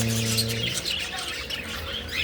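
Pet parakeets chirp and tweet in quick, bright bursts, fairly close, with a busy background of overlapping calls.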